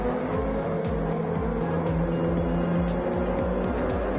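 Racing game audio of a race car with engine damage crawling slowly around a track, its engine a steady loud drone with repeated rising-and-falling revs and faint tire noise, no talking over it.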